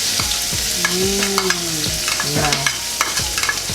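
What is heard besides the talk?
sautéing spice paste in hot oil in a wok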